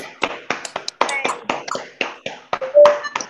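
Scattered claps from a few colleagues unmuted on a video call applauding graduates, uneven bursts of hand claps arriving through laptop microphones with faint background chatter, close and somewhat compressed.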